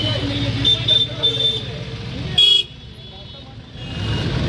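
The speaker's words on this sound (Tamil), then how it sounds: "Full traffic." Heavy road traffic on a busy street near the Taj Mahal in India, with a few short car horn toots cutting through the steady rumble of vehicles while people talk nearby.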